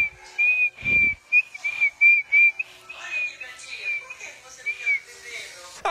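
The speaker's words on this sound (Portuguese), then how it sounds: "continua encantando a família e amigos com seus assobios." An 11-month-old baby girl whistles a steady, high tune in short repeated notes, close and clear, with a brief thump and soft background voices between phrases.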